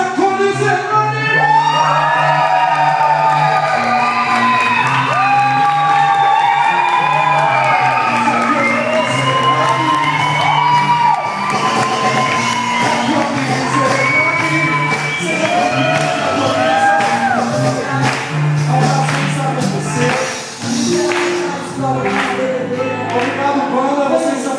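Large live audience at a youth stage show in Fortaleza cheers, whoops and shouts loudly and steadily for an arriving guest, with band music blending into the roar throughout.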